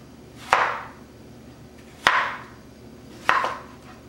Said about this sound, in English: I'll cut the tomato into small slices.